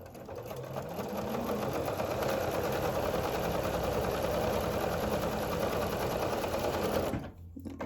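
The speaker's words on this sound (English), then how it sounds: "I'm going to sew 2 more together" A sewing machine stitches fabric placemat squares together, a loud steady mechanical whir running continuously for several seconds before stopping abruptly near the end.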